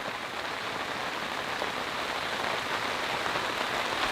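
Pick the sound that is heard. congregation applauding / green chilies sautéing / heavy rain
heavy rain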